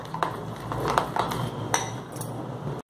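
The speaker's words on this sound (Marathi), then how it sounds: "मिश्रण छान एकत्र करायचं।" A spoon clinks and scrapes against the bowl while stirring a mashed ripe banana batter, giving a steady run of small metallic taps and chinks, close up with no talking.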